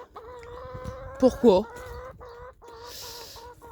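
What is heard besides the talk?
hen clucking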